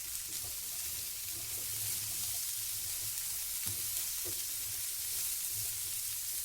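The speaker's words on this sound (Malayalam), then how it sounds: "ഇനി ഇതിലേക്ക് ഇത്തിരി മഞ്ഞൾപ്പൊടി കുരുമുളകും ചേർത്ത് ഒരു ഇത്തിരി വെളിച്ചെണ്ണയിൽ ഇതൊന്ന് ജസ്റ്റ് ഒന്ന് സോട്ട് ചെയ്തെടുക്കാം" Cauliflower sautés in a little coconut oil with turmeric and black pepper, giving a steady, close sizzle and hiss with faint stirring knocks throughout and no talking.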